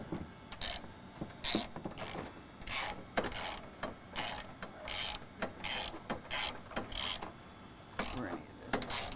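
A hand ratchet tightens a strap bolt on a replacement fuel tank under a Mercedes Sprinter van, giving repeated short bursts of rapid clicking with brief pauses between strokes, close to the microphone.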